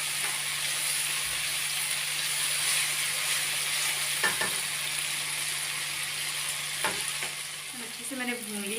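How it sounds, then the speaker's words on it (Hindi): Ginger and garlic fry in hot oil for a chicken and green bean dish, a loud, unbroken close-up sizzle with a couple of light utensil clinks, and a faint voice surfacing right at the end. "बहुत अच्छी खुशबू दे रहा है अदरक लहसुन। इसे भी हम अच्छी तरह भून लेंगे।"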